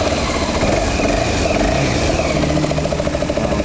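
A Kawasaki Ninja 250 mono single-cylinder motorcycle engine runs steadily after starting, a continuous close mechanical drone with no pauses and no talking.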